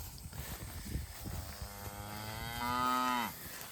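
A cow bawls once from across a pasture with a drawn-out, rising moo of about a second, heard moderately near over faint outdoor background noise.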